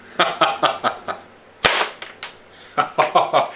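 Homemade airgun built from a bike pump with rubber bands fires, giving a string of sharp cracking snaps in a quick rhythm, one louder bang near the middle, all close and loud with no talk.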